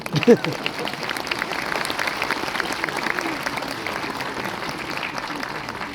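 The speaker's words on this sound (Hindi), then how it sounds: "आप ताली जरूर मारना चाहिए" Sustained audience applause at a spoken talk event in Uttarakhand, dense steady clapping filling the whole stretch at moderate loudness, with a brief louder burst near the start.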